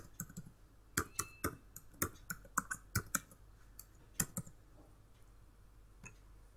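Light clicks of a computer keyboard as a password is typed, a quick irregular run of keystrokes close by and quiet, trailing off into a few isolated taps.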